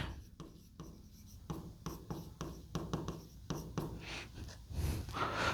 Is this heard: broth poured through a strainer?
no